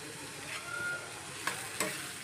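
Finely chopped onion frying in a pan for a Malvani-style onion tomato bhaji, a faint steady sizzle with a couple of soft stirring scrapes, no talking.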